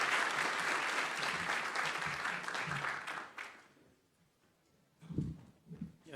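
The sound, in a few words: audience applause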